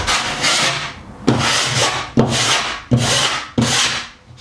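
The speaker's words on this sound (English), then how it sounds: "scrape that over, it takes the high spots off." A filler knife scrapes high spots off a plasterboard ceiling in five long, rasping strokes, each starting with a sharp catch and dragging steadily, close and fairly loud.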